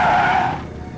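Car tires skid loudly as the vehicle brakes hard to a stop, a bright squeal that fades within half a second into low residual noise.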